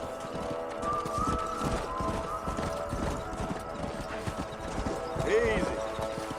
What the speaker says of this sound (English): Stay with the horses.